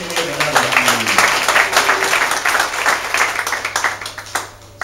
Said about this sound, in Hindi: यस, ताली बजाना चाहिए यीशु के लिए।